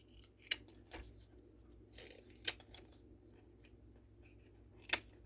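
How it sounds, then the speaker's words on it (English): Scissors snip tough artichoke leaves in a quiet kitchen, with four distinct crisp cuts spaced a second or two apart, close and otherwise near silent. "Now we're going to take our scissors and finish trimming the rest of these leaves off."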